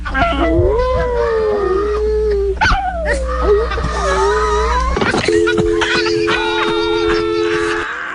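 A dog howls loudly and close by in long wavering, sliding cries broken by a few yips and whimpers, with a steady hum in the background and no speech.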